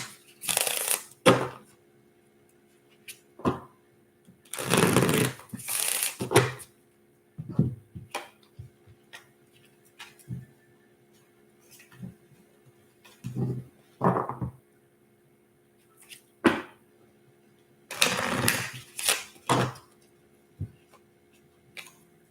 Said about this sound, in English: I'm trying to shuffle the cards quickly.